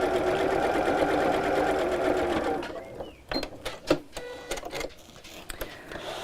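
Domestic sewing machine stitching a crossbody bag with a letterbox zip: a steady whirring run for about three seconds, then short stop-start bursts of stitching separated by pauses and light handling noises.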